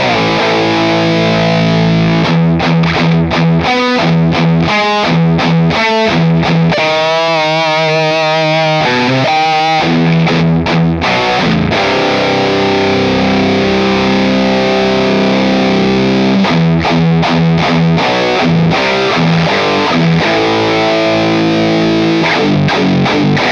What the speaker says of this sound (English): I'm just playing different things just so you can hear like how it chugs, fast, slow